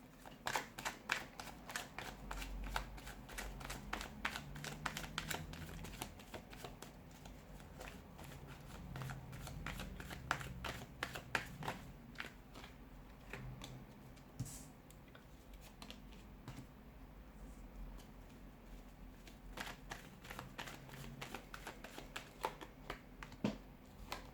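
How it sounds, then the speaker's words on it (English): Cards are shuffled continuously at close range, a steady stream of soft riffling and flicking clicks repeating for a long stretch. "let's give the cards a shuffle"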